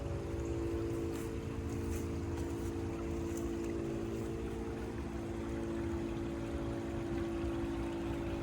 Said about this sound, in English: It's a shame about that engine running in the background